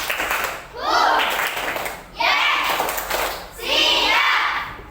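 Elementary schoolchildren in a classroom do a patterned clapping chant, three loud bursts of rhythmic clapping mixed with the class's voices calling out together, each separated by a brief pause.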